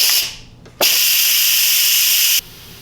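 Steam hisses loudly and steadily out of an Instant Pot pressure cooker on quick release for about a second and a half, then cuts off abruptly, after a brief earlier burst.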